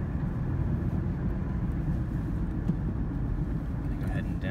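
A 2008 Ford Ranger 2WD with a 3.0 liter V6 and five-speed manual drives in fourth gear at about 30 mph, giving a steady, loud, low engine and road drone heard from inside the cab.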